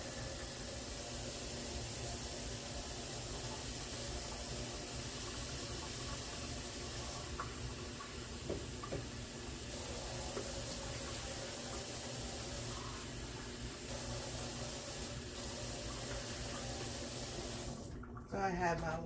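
Hot tap water runs steadily into a container for activating bread yeast in a home kitchen, a continuous close splashing hiss that cuts off near the end, with a voice talking briefly over it.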